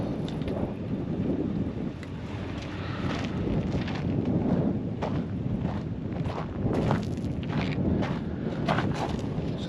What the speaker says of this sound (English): you can see it's pretty windy here today